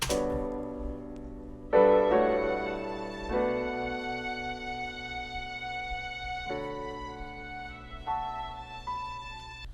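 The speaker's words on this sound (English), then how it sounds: "In the next step I added some strings" Dramatic string chords layered over a looped soul beat sample, with sustained harmonic pads shifting at several chord changes across the passage, treated with equalization and reverb for a roomy, full body.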